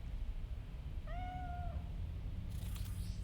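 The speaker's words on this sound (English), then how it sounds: "It's like the meowing's coming from over here, but the cat's clearly over here." A cat gives a single clear, drawn-out meow partway through, heard over a low steady background hum, with a faint rustle near the end.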